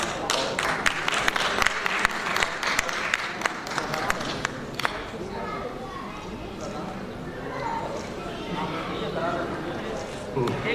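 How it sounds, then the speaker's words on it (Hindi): Crowd applause at a literary awards ceremony, with sharp claps that are loudest in the first half and then settle into a softer, steady patter under continuing talk. "ये सम्मान एक बार हृदय से तालियों के साथ अभिवादन"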